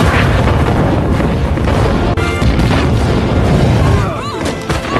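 Loud, continuous booming and rumbling explosions crash through a dense soundtrack from the film Avatar, with a few sharp bursts near the middle and end.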